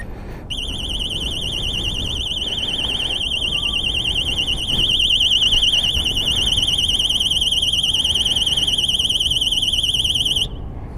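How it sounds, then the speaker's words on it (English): A Xena XX15 disc lock alarm shrieks continuously at close range, a loud warbling electronic siren that holds for about ten seconds before cutting off abruptly. "If you don't get it within 5 beeps, the alarm will go off."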